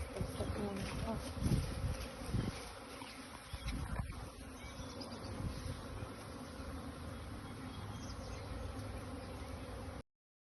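A honeybee swarm hums and drones densely all around, a close, continuous insect buzz that holds steady for about ten seconds with no voices.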